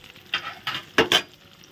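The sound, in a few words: frying paneer pieces in a pan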